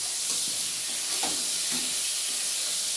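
Brinjal pieces with turmeric and salt fry in hot oil with a steady, loud sizzle and hiss, broken by a few soft stirring scrapes and clinks.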